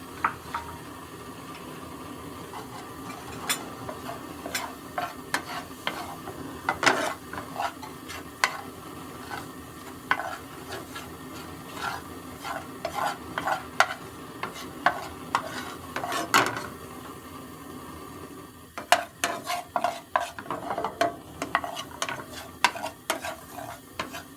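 Flour stirs into melted butter in a pan as a steady sizzle, with repeated scraping strokes and light clinks of the spoon against the pan, loud and close, with no voices.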